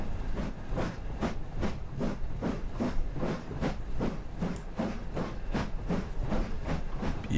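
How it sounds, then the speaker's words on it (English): An LMS Princess Royal Class steam locomotive in Train Simulator chuffs in a steady, rapid rhythm of loud, evenly spaced exhaust beats over a constant hiss, close and unbroken throughout. "This thing has got some brilliant, like, chuffing, barking sound effects."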